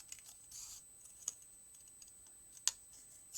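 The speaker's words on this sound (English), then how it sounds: "So I'm going to take my scissors. I'm going to start with an upward movement and cut this across." Scissors cutting across a sheet of paper, quiet snips and faint papery rustling with a few sharper clicks of the blades, heard close up in an otherwise quiet room.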